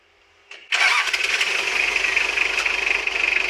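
Mitsubishi L300 engine with radiator and belts refitted after a compression repair: a short cranking whir, then it catches and settles into a steady, close idle hum.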